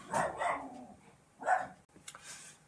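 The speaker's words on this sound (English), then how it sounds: "my dog just went nuts and I can't concentrate" A dog barks indoors: two quick barks close together, then a single louder bark after a pause, followed by fainter whimpering sounds, with no one speaking.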